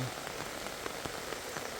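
Heavy downpour in Pulicherla, Chittoor, a steady hiss of rain hitting surfaces with faint individual drop taps scattered through, no voices.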